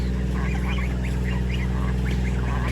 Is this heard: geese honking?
yes